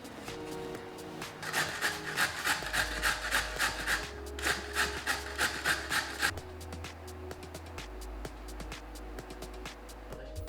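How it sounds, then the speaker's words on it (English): Potatoes grated by hand, a close, steady run of rhythmic rasping strokes, about a dozen in two bursts, then quieter scraping with a low background hum. "Peel and grate 300 grams of potatoes."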